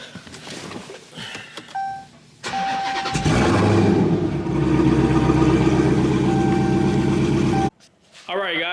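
A customer's car is started and its engine revs up loudly as it is pulled into a repair shop, idling roughly between bursts before cutting off abruptly near the end, with a voice speaking briefly over it.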